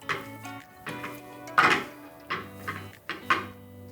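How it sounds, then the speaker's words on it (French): Seasoned ingredients with Kadi seasoning being mixed together in a bowl for mini steaks, giving several quiet scraping and clattering strokes of a utensil in an irregular rhythm, with no talk. "Nous allons mélanger le tout."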